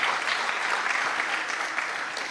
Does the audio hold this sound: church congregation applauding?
yes